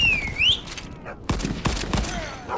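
Rapid gunshots from a P90 in a video game crack in quick bursts over a whistling tone and background noise, several sharp shots in succession.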